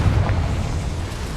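Confringo fire spell blast in the video game Hogwarts Legacy, a single deep, rumbling explosive burst that swells quickly and then rolls on as a heavy sustained boom.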